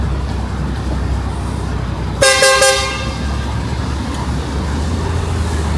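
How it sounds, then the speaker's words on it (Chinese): A car horn sounds one loud, sustained honk on a busy Zhuhai city street at evening rush hour, rising sharply over steady traffic rumble and then cutting off. "这个喇叭按的吓我一跳。"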